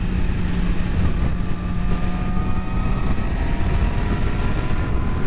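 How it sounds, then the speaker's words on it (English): A 2019 Yamaha YZF-R6 600cc supersport motorcycle being ridden, its engine a steady loud drone mixed with wind rush, close and continuous without talk. "that's why riding a 600 Super Sport is so fun on the streets here"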